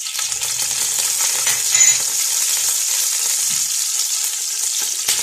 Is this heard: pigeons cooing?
no